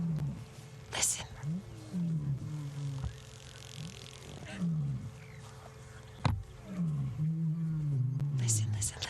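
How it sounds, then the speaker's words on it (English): Low, breathy roaring grunts from a male lion on a South African safari, a soft partial roar repeated in swelling and falling calls over a steady vehicle engine hum, with faint talk nearby. "But that's not the full roar. That's like a little whisper of a roar."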